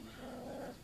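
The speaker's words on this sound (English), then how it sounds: "He's making a little growling noise." A puppy about a week and a half old makes a soft, brief, low growl close by, with no voices over it.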